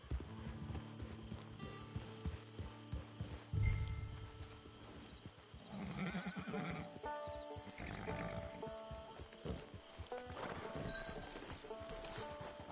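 A horse in the video game Red Dead Redemption clip-clops along at a steady gait, with hoofbeats and a snort or whinny over a layered game soundscape of music and ambience. The sound is moderately loud and continuous, with no clear speech.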